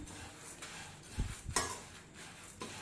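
Coriander seeds being dry-roasted with a little rock salt in a pan, stirred by a spoon that scrapes and clinks against the metal in irregular strokes, close but soft, with no talk.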